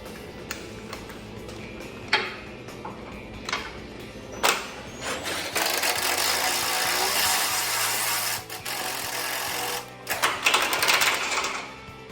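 Ratchet driving a 14 mm self-tapping bolt into the frame of a 2021 Jeep Wrangler Rubicon 4xe during a winch plate install, with sharp clicking pawl ticks, a few isolated clicks first, then a sustained grinding, rasping stretch of cranking.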